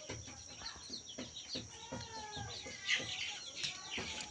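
Local backyard chickens clucking close by in a rural setting, a steady run of short clucks and soft calls with a few higher chirps, faint ambient noise underneath.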